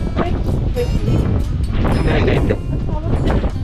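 Gusty mountain wind at the Mt. Banahaw viewdeck roars against the microphone in loud, uneven low rumbles, with someone talking intermittently over the buffeting.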